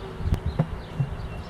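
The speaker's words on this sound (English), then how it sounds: "I want all of those bees to stay in there tonight, hopefully" Honey bees in a hive being closed up for the night after a split, with the old queen still inside; a low, faint buzzing hum broken by a few soft knocks and thumps from the cover being handled.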